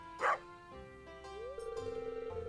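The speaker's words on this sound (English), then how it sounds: "Ellie, let's go look at some puppies" A dog barks once at a puppy shop in a video game: a short, sharp bark near the start, followed by steady tonal game music and a soft rhythmic pulse.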